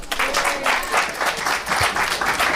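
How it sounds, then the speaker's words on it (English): An audience applauds at an official handover of 24 houses under a mass housing programme, producing a steady patter of many hands clapping at moderate loudness. "Can you give them a round of applause?"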